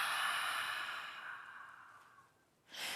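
A single deep exhale through the mouth during a yoga breathing exercise, a long breathy rush that fades gradually, followed by the start of a fresh breath at the end.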